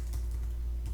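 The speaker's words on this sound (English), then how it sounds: "I'm going to hit the enter return key on my keyboard" Keystrokes on a computer keyboard while entering spreadsheet cells, a steady faint clatter of typing with a few sharper key hits, close and alone with no talk.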